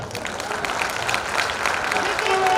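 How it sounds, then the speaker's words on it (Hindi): Audience applause at a political speech in Lucknow, a steady wash of clapping from a crowd that holds evenly and swells slightly toward the end, with no voice over it. "इतना स्वीकृत होने के बाद धीरे तालियां बजी"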